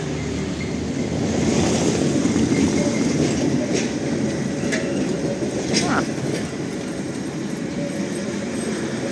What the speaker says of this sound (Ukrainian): І трієчка, трамвай.